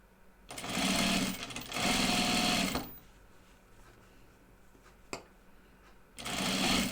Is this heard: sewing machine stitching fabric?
yes